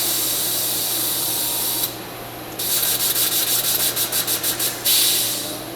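An IDI 303 pump dispenses liquid into a beaker: a steady loud hiss, a brief drop, then a run of about ten rhythmic pulsing spurts and a final strong gush that trails off; no talking.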